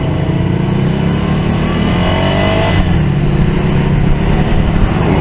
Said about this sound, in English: gotta get used to where I have to put it in the rev range to pull away from a stop